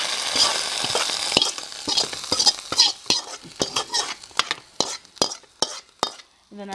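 Rapid clattering and tapping of spoons and small utensils against metal as a tempering is added into a mixer jar for horse gram chutney, with a sizzling undertone, a busy run of close kitchen clinks and scrapes.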